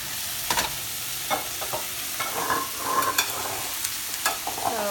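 Fish for laab cooking in a pan on low heat, with soft continuous sizzling and frying plus repeated scraping and stirring clinks from a utensil, close and moderately loud.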